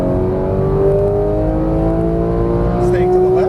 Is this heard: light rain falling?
no